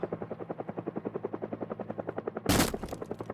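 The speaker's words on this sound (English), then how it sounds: "why is the helicopter following me around and not picking me up?" A helicopter hovers overhead in the zombie survival game Project Zomboid, its rotor thumping in a steady fast rhythm, loud and near, until a sudden burst of gunfire cuts in.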